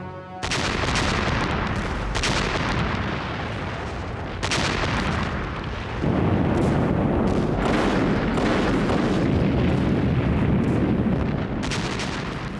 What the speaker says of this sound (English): after Hitler's invasion of the Soviet Union, the guns of the Red Army began a ferocious bombardment of German forces in what today is Belarus.